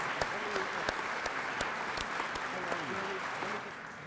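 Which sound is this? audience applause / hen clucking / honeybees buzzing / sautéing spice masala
audience applause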